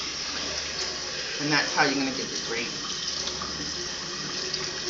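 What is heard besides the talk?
water added to floured meat in grease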